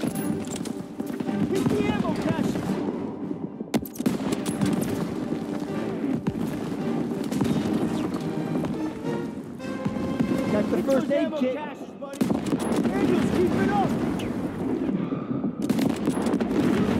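Battlefield gunfire from Call of Duty WWII, with scattered rifle and machine-gun shots and explosions behind steady shouting soldiers and loud combat noise.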